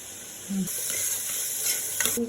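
Onions and dried chillies sautéing in a pan for an avarakkai poriyal, giving a steady close sizzle with brief scraping stirs and a light clink near the end.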